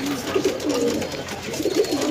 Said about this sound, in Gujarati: તો બધા કબૂતર અંદર આવી ગયા છે